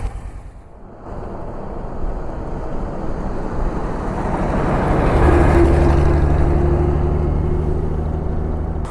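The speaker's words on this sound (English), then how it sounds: "You can hear the brakes squeak a little bit." A 1946 Dodge WD20 milk dairy truck rolls past with a rising engine rumble, then a thin high squeal of brakes as it slows to a stop.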